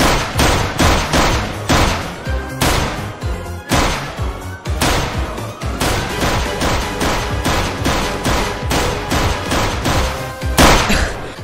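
Rapid gunfire in a Minecraft game: repeated loud volleys of sharp shots in quick bursts, broken by short pauses, with no talk.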